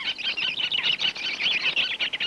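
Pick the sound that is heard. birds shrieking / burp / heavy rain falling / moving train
birds shrieking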